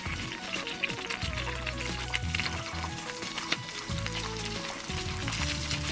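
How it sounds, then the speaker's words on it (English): Dumplings fry in a hot pan with a steady crackling sizzle, close and moderately quiet, with faint kitchen clatter and a low hum beneath. "I'm gonna do something before the rice gets ready, which I think is going to be to fry up the dumplings"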